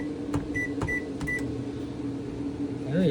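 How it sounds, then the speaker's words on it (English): A microwave oven hums steadily inside a camper van, powered through an inverter, with a low drone and a few short clicks and beeps near the start, close and moderately loud with no talking. "there's the microwave running"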